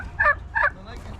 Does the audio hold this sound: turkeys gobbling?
yes